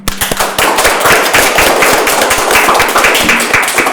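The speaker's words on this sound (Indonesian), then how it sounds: "Kita tepuk tangan dulu." A small crowd at a vocational high school event in Indonesia claps loudly and close by, a dense patter of hand claps lasting several seconds with no talking.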